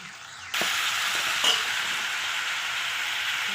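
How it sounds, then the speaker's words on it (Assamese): Onions and mustard greens frying in hot oil in a pan, a sudden loud sizzle that starts abruptly and then holds steady and close, with a brief stir partway through. "পিয়াজখিনি ফ্ৰাই হোৱাৰ লগে লগে শাকখিনি দি আমি এনেদৰে অলপমান টাইম ভাজি লম"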